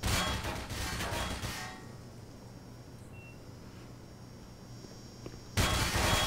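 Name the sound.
grenade explosion in video game Black Mesa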